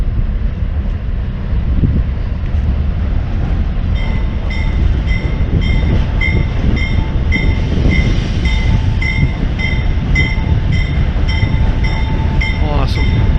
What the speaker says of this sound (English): That is the trash train, if you didn't know that.